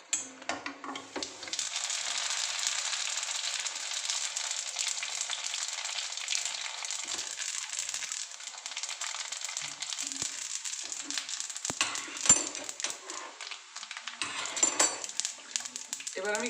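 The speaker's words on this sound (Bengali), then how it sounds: "আমি একটু মৌরিটাও ভেজে দেবো" Fennel seeds fry in hot oil with a steady close sizzle that lasts throughout, broken by occasional clinks of a utensil against the pan while the snack is being made.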